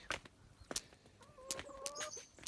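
A hen clucks outdoors near a snowy coop, giving a few faint, sparse clucks and short calls with brief louder bursts in a quiet setting.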